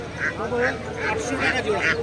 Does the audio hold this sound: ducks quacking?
yes